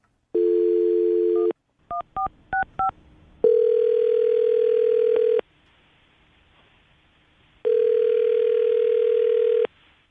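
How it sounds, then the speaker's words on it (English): Telephone call being placed: a held dial tone, a quick run of keypad tones, then two long ringback tones separated by a pause, all clean and close. "I'm going to dial the phone over right now and see exactly why she's not getting back to you"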